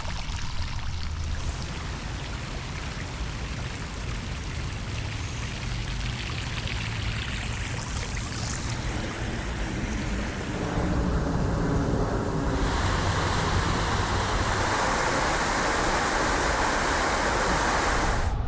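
Floodwater from Etobicoke Creek in Brampton rushes over a submerged trail, a steady broadband roar of churning water that grows slightly louder and fuller partway through, with no voices.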